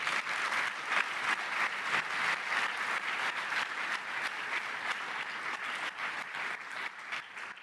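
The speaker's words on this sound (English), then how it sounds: "Round of applause, please" Audience applause at a startup demo day pitching event at a Frankfurt business school entrepreneurship center, steady dense clapping from a crowd lasting throughout, even and sustained with no talk.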